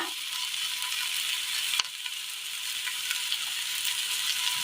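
Curry leaves drop into hot oil for a Kerala dish and crackle steadily, a bright hissing sizzle with one sharp pop near the start, quiet and close with no talk.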